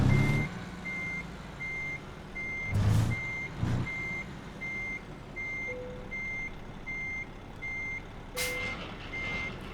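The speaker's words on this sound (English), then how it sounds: "I'm sorry for all the beeping." Reversing beeps from a truck in a trucking video game, a steady evenly spaced series of sharp electronic beeps over low engine rumble, with a few brief air-brake-like bursts and no talk.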